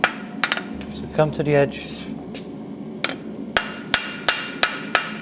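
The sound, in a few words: hammering hot iron leaf flat on an anvil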